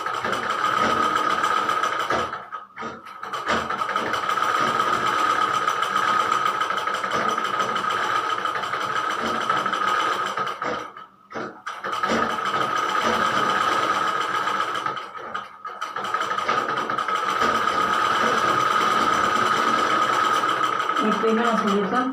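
A sewing machine stitches a baby's summer frock in long, steady runs, loud and close, broken by a few short pauses between seams.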